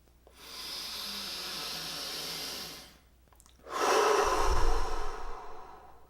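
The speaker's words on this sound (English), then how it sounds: "Take a deep breath in." One slow, deep breath is heard up close, first a long steady inhale of about two and a half seconds, then a short pause and a louder, rougher exhale that fades out.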